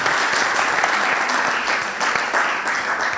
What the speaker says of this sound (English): Give Omar a big round of applause